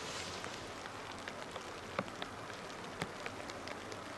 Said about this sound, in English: the rain's screwing it up